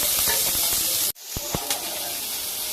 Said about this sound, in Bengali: পেঁয়াজগুলো দিয়ে দিলাম। এবার এটা নাড়াতে হবে